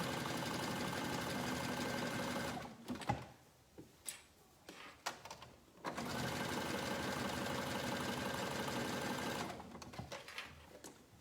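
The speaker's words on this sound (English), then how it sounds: "I'm always choosing a less visible location for the starting and stopping of my sewing on this top stitching." A sewing machine top stitches a girl's swimsuit sewn as a tankini, running in long steady buzzing bursts with short pauses and scattered clicks between them, close and loud with no voices.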